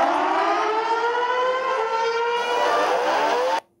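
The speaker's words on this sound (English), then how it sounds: "It's called Air Raid Siren." An air raid siren from a phone app wails loud and steady for several seconds, its pitch rising slightly, then cuts off abruptly, with no talking.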